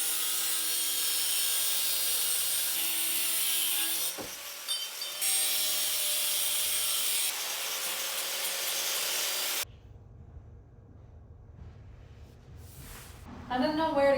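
A rod for hanging sweatshirts is being cut down to size in a hotel lobby under renovation: a long, steady rasping cut that pauses briefly midway, then stops abruptly, followed by quieter handling noises and a faint voice near the end.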